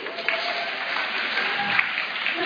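Group applause for a prize winner during an online fitness session, a steady, moderately loud clatter of clapping lasting throughout.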